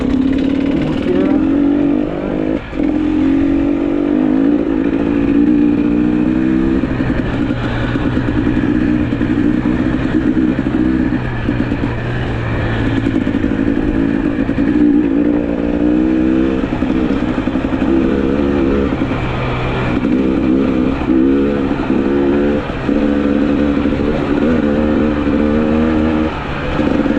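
Motocross motorcycle ridden solo at high speed along a road, its engine droning loud and close throughout with rising and falling revs, wind rush and occasional clatter.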